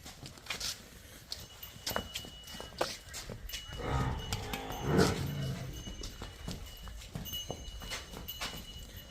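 Buffalo and cows low and moo nearby amid farmyard bustle, with shuffling hooves and scattered thumps throughout.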